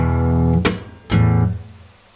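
Guitar playing the opening chord motions of a song: a strummed chord, a sharp muted scratch, a ringing open string and a quick up strum, close and clear with no talking.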